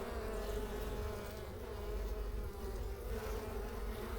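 A dense, steady hum of Russian hybrid honey bees swarming over a hive frame, close and continuous with no voices over it.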